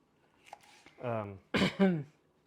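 A few close, rough bursts of coughing and throat clearing, with a brief catch of breath between them, set off by the pungent aroma of ingredients being cut while making salsa.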